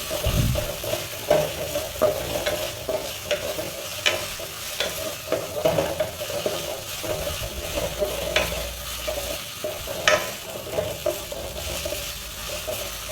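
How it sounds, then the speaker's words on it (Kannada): Homemade ginger garlic paste fries in a pan while being stirred for a paneer dish, with a continuous close sizzle broken by repeated scrapes and light metallic taps of the spoon. "ಮನೇಲಿ ಮಾಡಿರುವಂಥ 2 ಸ್ಪೂನ್ ಆಗುವಷ್ಟು ಶುಂಠಿ ಬೆಳ್ಳುಳ್ಳಿ ಪೇಸ್ಟ್ನ ಹಾಕ್ಬಿಟ್ಟು ಇದು ಸಹ ಹಸಿ ಸ್ಮೆಲ್ ಹೋಗೋವರೆಗೂ ಸಹ ಫ್ರೈ ಮಾಡ್ತಾ ಇದ್ದೀನಿ"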